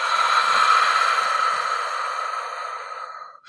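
A long, steady exhale of breath during a guided breathing exercise, a close, airy rush lasting over three seconds and tapering off at the end.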